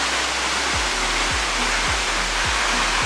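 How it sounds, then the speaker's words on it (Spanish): The first cascade of the Aconco falls near Tetela de Ocampo, Puebla, Mexico, roars as a loud, dense, continuous rush of falling water, close by, with faint periodic low thumps beneath it. "Wow, es impresionante, impresionante esta cascada"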